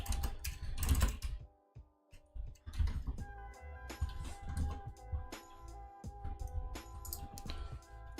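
Computer keyboard typing while coding a Rust web crawler: bursts of quick, close key clicks with brief pauses, fairly quiet, no talk.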